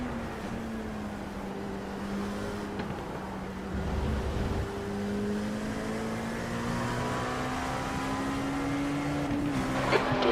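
Cadillac prototype race car engines droning steadily in the iRacing sim during a six-hour endurance event at Watkins Glen, a rising harmonic whine held for the length of the run, loud and continuous with no talk.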